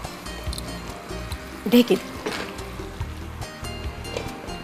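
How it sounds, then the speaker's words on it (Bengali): Rezala meat simmers in a pot with soft, irregular bubbling and burbling as it boils, while someone speaks over it in a calm voice. "আমাদের মাংসটা খুব সুন্দর ফুটে উঠেছে"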